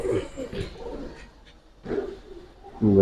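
Giribaz pigeons cooing close by in short, soft, throaty bursts separated by brief pauses, with a fuller coo rising at the end.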